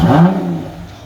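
Lotus Exige sports car engine revving as it is moved at a dealership, a loud close burst that fades within about a second.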